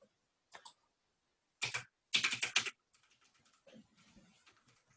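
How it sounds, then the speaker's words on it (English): Computer keyboards clatter in short bursts during a Python programming class: a brief tap, then two quick runs of loud keystrokes, then softer scattered clicks, with no talking. "I hear the keyboards clicking."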